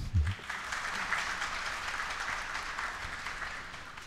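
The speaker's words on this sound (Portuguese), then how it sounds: "Podemos aplaudir." An audience at a union gathering bursts into steady, dense applause that holds at an even level for several seconds, with a brief low thump at the start and no talking over it.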